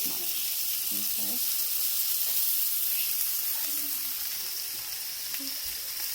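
Leftover onions and vegetables fry in a pan on low heat, giving a steady close sizzle and hiss with occasional soft stirring sounds and a faint voice in the background.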